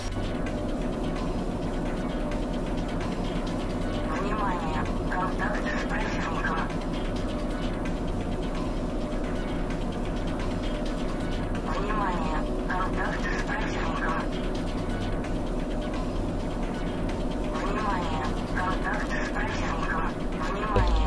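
Tornado fighter jets roar steadily overhead in the flight-combat video game Echelon, a continuous loud engine drone blended with other in-game effects and a voice throughout.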